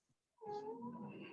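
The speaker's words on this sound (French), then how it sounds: "Oui, le minou, il s'exprime beaucoup." A house cat gives a single drawn-out, rising meow that lasts about a second, close to the microphone and fairly clear, with a brief faint sound just before it in an otherwise quiet room.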